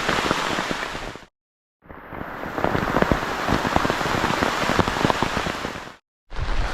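Heavy rain pours down close by during a fishing outing in Thailand, a loud dense patter broken by two brief silent gaps.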